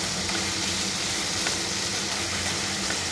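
Dried loitta fish fries in a pan with a constant crackling sizzle that stays even and continuous throughout, close and moderately loud, with faint clinks and a low hum beneath.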